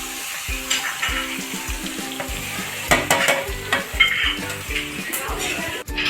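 Mawa milk solids roast in a large pot while a spoon scrapes and stirs steadily against the metal, with rhythmic clanks over a continuous sizzle and a few louder knocks near the end.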